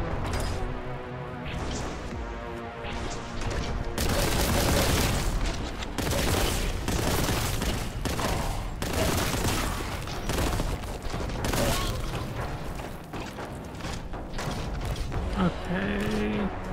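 Heavy gunfire from a newly acquired weapon in Warhammer 40,000: Boltgun, repeated blasts and booms ringing over a dense, loud mix of game music and effects throughout.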